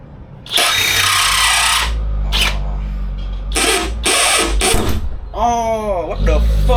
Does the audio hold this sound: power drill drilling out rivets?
yes